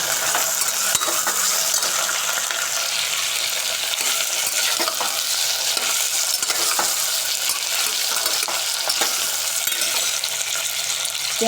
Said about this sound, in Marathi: लसणाची पेस्ट टाकल्यानंतर आपण कांदा, टमाटर, बटाटा सगळं एकत्र मिक्स करून घ्यायचं